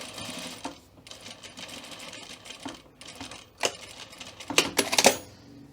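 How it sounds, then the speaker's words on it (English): A sewing machine stitches down a fabric triangle for a welt pocket with a fast mechanical whirr in short runs, close by, ending in a few louder clicks and clunks. "we're going to sew this triangle down, and we're going to go from that stitch point to that stitch point, and we're going to sew on the triangle."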